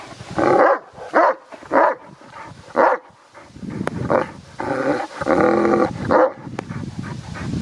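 A dog barks in short, loud bursts close by, several spaced yelps followed by longer growling, roaring vocalizations, with no talk over it.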